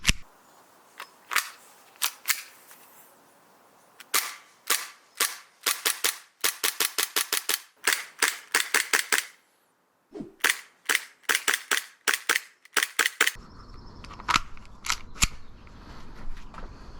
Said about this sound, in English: let's actually go ahead and shoot this guy and see how it does